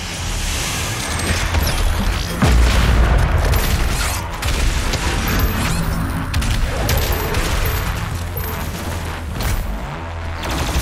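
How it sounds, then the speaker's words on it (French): Intense DOOM Eternal combat erupts with a loud grenade explosion amid heavy booms and rapid gunfire bursts, a chaotic barrage that continues over several seconds. "La grenade, hein."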